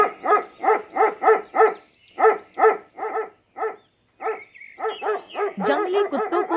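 Wild dogs bark in a rapid, repeated string of sharp calls at close range, with brief pauses, then a louder, denser burst of overlapping barks and yips toward the end.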